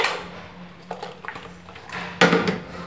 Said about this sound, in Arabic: غادي نحرك هاد المقادير هكذا